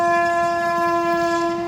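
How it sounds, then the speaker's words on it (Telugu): A train speeds past close to a work camp beside the track, with a loud, steady horn tone sustained over a low rolling rumble throughout. "ట్రైన్ చూడండి ఎంత స్పీడ్ వెళ్తుందో"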